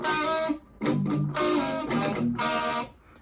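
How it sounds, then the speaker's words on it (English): Electric guitar in a song tutorial, with frenzied distorted strumming in short bursts followed by the bottom three strings ringing open; loud, close, with brief gaps between the strums. "just a little bit of frenzied strumming,"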